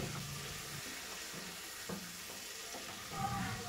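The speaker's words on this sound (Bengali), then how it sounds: "এরপর চিচিঙ্গাগুলোকে ভেজে নেব প্রায় 4 থেকে 5 মিনিট মিডিয়াম আছে।" Chopped ridge gourd (chichinga) fries in a pan over medium heat, giving a soft, steady sizzle with occasional light scrapes and stirring taps, and no voices.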